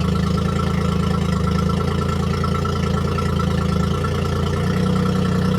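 A boat engine runs steadily at idle, a loud, continuous low drone with an even mechanical pulse throughout and no voices.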